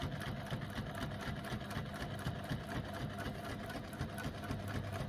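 A sewing machine stitches a narrow eighth-inch seam, a steady close mechanical whirring with rapid regular needle clatter, running continuously on its own at moderate volume.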